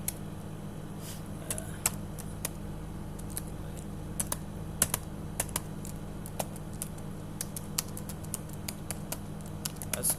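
Typing on a computer keyboard while C code is entered for a student grade card program, with scattered quiet key clicks over a steady low hum, fairly faint and close.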